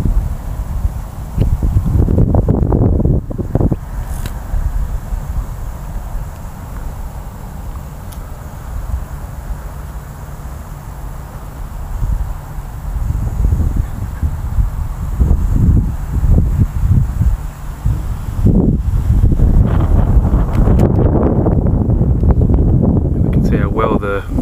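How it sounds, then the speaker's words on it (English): Steady wind buffeting an action camera's microphone outdoors, a continuous loud rumbling roar with gusty swells throughout, someone talking over it for much of the time. "the cameras pick up that wind noise as well"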